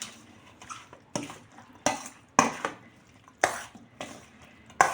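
A spoon clatters against a bowl in a rhythmic series of scraping strokes as cucumber salad is tossed with canned fish, close and fairly loud.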